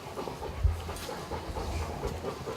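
A dog pants steadily and rapidly up close, with a low rumbling background throughout.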